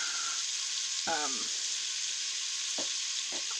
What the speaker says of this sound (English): So I'm just making a roux of butter and flour.